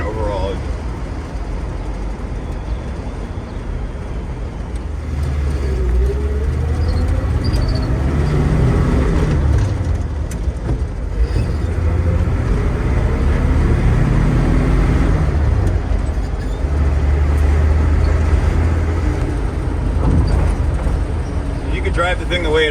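A 1978 Chevy G20 van with an inline six being driven, a steady low engine drone under road and cabin noise that swells as it picks up speed and stays continuous throughout.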